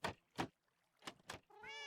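Cats in the Minecraft video game give four quick, clear meows close together, followed by a longer drawn-out meow.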